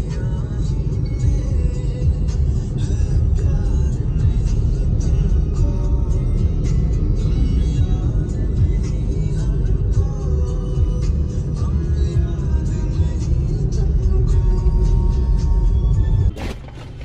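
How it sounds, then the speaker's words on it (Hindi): A car drives along a bumpy road, a steady loud low rumble of engine and tyres with cabin knocks and rattles, and no voices. "अभी आप ड्राइव एंजॉय करो इतने"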